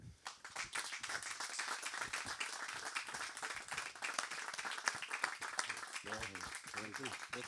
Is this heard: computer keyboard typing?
no